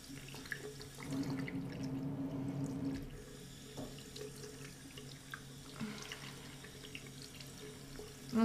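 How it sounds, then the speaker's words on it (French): Running tap water splashes over a soapy paintbrush held in a cupped hand, a steady close rush of flowing water with small splashes, louder for the first few seconds and then settling into a softer trickle. "vous le faites dans votre main avec de l'eau pour en fait rincer le pinceau"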